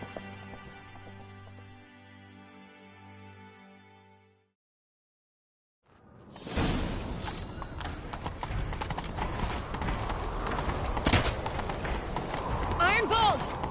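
Horse hooves galloping in The Witcher 3, preceded by a musical passage and a brief silence, then a fast, steady clip-clop rhythm with occasional whinnies and voices speaking over the run.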